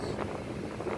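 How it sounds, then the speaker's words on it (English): Steady wind buffets an outdoor microphone, producing a continuous low rumbling roar with no voices. "Quite windy as usual."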